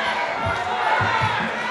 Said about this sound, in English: The crowd are animated already.